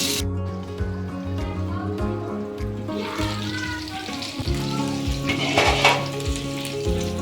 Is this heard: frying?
yes